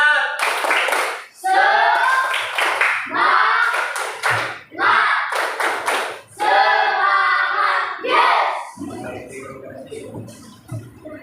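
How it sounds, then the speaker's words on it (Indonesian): A classroom group performs a rhythmic spirit clap (tepuk semangat) during a teaching-practice lesson, with sharp, close hand claps in bursts over loud chanted voices and the clapping pattern repeated several times. "Ya, kita dulu tepuk semangat. Tepuk semangat."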